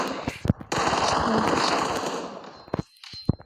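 Rapid bursts of automatic gunfire in an online shooting game match, loud and close, with a long sustained volley between short single shots at the start and end.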